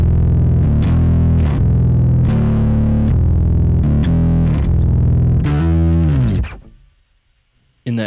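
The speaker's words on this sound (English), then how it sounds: "It's like a really aggressive, dirty octave sound," Electric guitar through a Quad Cortex patch cloned from a micro synth, giving an aggressive, dirty octave tone; loud, close chords played in a repeated rhythmic pattern before ringing out and cutting to near silence.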